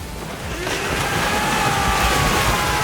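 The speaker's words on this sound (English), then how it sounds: "That explains how the lightning takes them all out." A lightning strike hits water in the video game AI: The Somnium Files, a loud rolling thunderous crash with hissing, surf-like noise that swells and holds through the moment.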